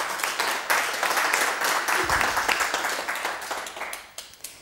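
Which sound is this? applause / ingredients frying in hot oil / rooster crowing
applause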